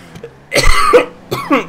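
Two harsh, close coughs in quick succession, with a throaty rasp, loud against a quiet background.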